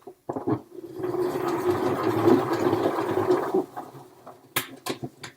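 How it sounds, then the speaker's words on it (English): A salad spinner whirs loudly for a couple of seconds as freshly washed spinach spins inside, with clicks and clatter of handling before and after the steady whirr. "Give it a spin."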